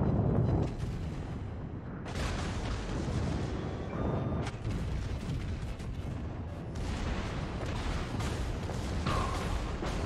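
Heavy naval gun turrets fire in the warship battle game World of Warships, with a Kronstadt battlecruiser in the fight, producing repeated deep booms and rumbling blasts that roll into one another in a continuous barrage.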